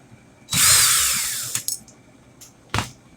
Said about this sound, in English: I'll put my 20 gauge in my drill.